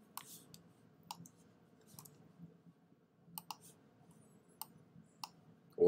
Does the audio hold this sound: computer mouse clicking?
yes